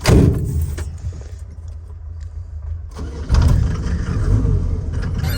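A farm vehicle drives between potato fields, its engine rumbling steadily at close range, easing slightly and then revving up again partway through, with no talk.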